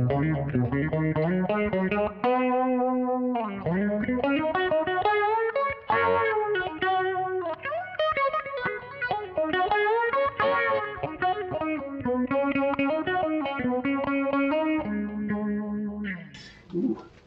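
Electric guitar through an MXR Phase 90 phaser pedal, with a sweeping, warbling phaser effect, playing a continuous melodic line with chords, loud and up close, no voices.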